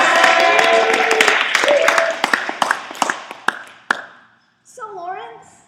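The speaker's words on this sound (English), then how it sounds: "Let's give a big round of applause for Lawrence." An audience claps for a participant, the applause thinning into scattered individual claps that fade out, with voices talking over it and a speaker resuming afterward.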